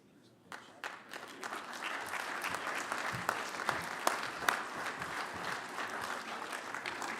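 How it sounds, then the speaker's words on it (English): A dinner crowd at a keynote event breaks into applause for the speaker, building quickly from quiet into dense, sustained clapping from many hands across the room, with occasional sharper claps standing out. "another round of applause for Bill Lomax"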